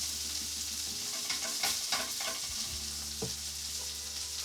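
Chicken and chilli frying in a hot pan, a steady close sizzle with stirring scrapes and utensil clicks breaking through, no talking.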